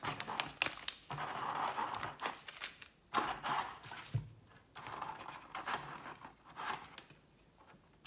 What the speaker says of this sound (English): Rip out these packs.